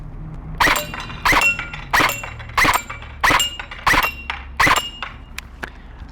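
Repeated sharp shots from an EMG Noveske Gen4 airsoft electric rifle striking targets, about seven evenly spaced cracks with clattering impacts, loud and close, no talk.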